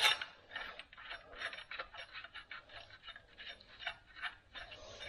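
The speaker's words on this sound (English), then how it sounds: "Now we can just go ahead and bolt in everything." Ratchet wrench bolting in a clutch assembly on a Unimog 404, a steady run of fast clicking strokes in short bursts, close and moderately quiet, no talk.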